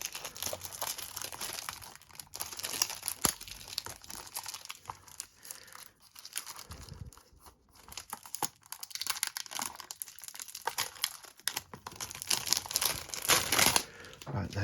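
Tight plastic shrink-wrap on a Vinegar Syndrome 4K Blu-ray of The Tenant (1976) crinkles and tears in repeated close, scratchy bursts, growing louder near the end, with someone speaking intermittently.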